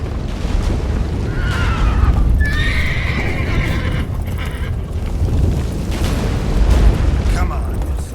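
A horse in The Witcher 3 neighs loudly with a rising whinny and a second call, hooves clopping beneath, amid a roaring, booming rumble with voices speaking.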